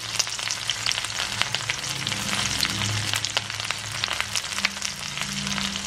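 Grated coconut, curry leaves, shallots and dried red chillies fry in a pan for papaya curry, giving a steady crackling sizzle with occasional stirring scrapes and no talking.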